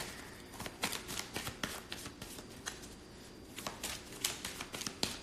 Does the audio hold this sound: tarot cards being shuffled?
yes